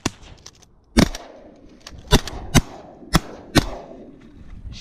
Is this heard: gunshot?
yes